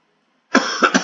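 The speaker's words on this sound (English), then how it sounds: "I do tend to cough." A person's cough: silence, then a harsh close burst followed by two shorter coughs in quick succession, alone with no talk.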